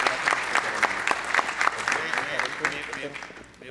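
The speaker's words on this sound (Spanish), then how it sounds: "Despedimos, por favor, con un fuerte aplauso" Medical conference audience applauding in a large hall, a steady dense clapping that holds for several seconds and tapers slightly toward the end.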